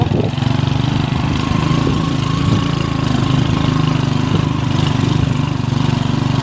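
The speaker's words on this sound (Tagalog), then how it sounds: "may mga motor din dito" Motorcycle engines run continuously on a rural road among large rocks in Barangay San Agustin, Valderrama, Antique, a steady loud low drone throughout with no break.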